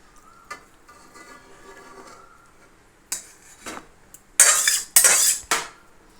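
A pan of pabda fish curry being taken off a kitchen stove: a few loud metallic clanks and scrapes of cookware, sharpest near the end, after a stretch of soft clinks.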